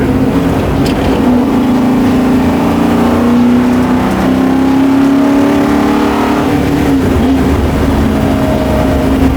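A 700-horsepower big-block 1964 Ford Galaxie growls loud and close, its engine holding a steady rumble, then climbing and dipping in pitch as the throttle rises, with no talk over it.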